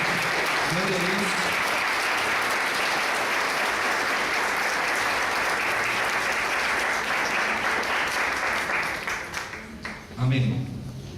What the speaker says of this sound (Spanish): Le damos una ofrenda de palmas al Señor en esta mañana.